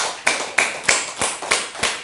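Several crisp hand claps from a church congregation in a steady rhythm, about three per second, clear and close with no voices.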